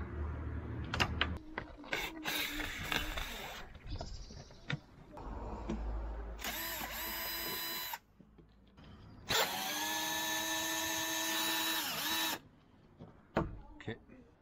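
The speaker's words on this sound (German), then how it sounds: "mal gespannt, wie gut ich die Schrauben aufbekomme, da ich die mit Loctite gesichert hatte" A power driver whines in several bursts while backing out Loctite-secured screws from a car roof rack, two long steady runs and a few short jolts, separated by clicks and handling noise.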